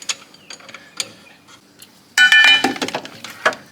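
A ratchet working on the starter bolt of a Jeep Grand Cherokee, starting with faint scattered metallic clicks and then a louder burst of quick clicking, rattling and tool clatter close by.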